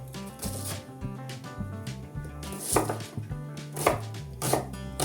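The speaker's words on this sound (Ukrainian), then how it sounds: "нарізаємо цибулю довільно" A knife chops onion rapidly on a cutting board in quick, uneven strokes, with light kitchen clatter and soft background music.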